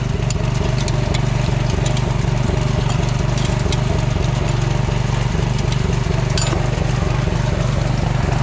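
A loud, steady engine drones and idles continuously at close range, with faint metallic clinks now and then and no talking.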